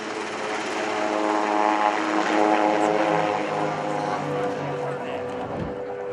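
A propeller display aircraft at an airshow drones loudly and steadily overhead, its engine tone rising and then fading slightly as it passes, while a commentator speaks over it.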